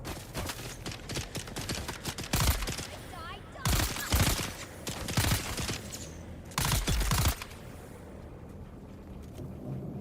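Video game gunfire in Dune: Awakening, with bursts of rapid automatic shots in several loud clusters over a steady rumbling background, with scattered voices between volleys.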